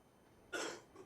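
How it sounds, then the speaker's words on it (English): A man coughs once, a short sharp burst close to the microphone with a faint trailing breath, during a professional Counter-Strike match at EPICENTER 2016, over quiet background hiss. "was going to cough for a second, but he did it for me."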